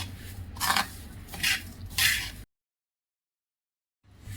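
Mouth freshener seeds mixed in a bowl make three quick bursts of gritty rattling and clinking, followed by a stretch of complete silence before the background noise returns.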